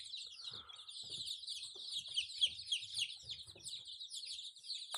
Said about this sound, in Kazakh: Біздің биылдыққа шығарған соңғы балапандарымыз.